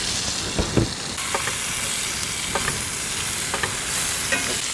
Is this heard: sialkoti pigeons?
no